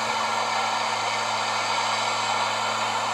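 A torch roars steadily at close range as it heats the wheel bearing bolts on a 2007-2012 front-wheel-drive Mazda CX-7, a constant loud hiss with a low tonal hum and no voices.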